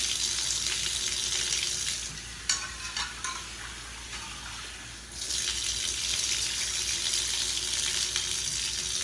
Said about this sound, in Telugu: ఒక పాన్లోకి కందిపప్పును తీసుకొని రెండు మూడు సార్లు నీట్గా శుభ్రం చేసుకోవాలి